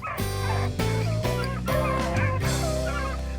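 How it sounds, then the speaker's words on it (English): A pack of hunting dogs bays and yelps together continuously on a hot rabbit trail, the voices overlapping loudly and steadily, with no talking. "I just love that sound when those dogs really get going all together on a hot rabbit trail"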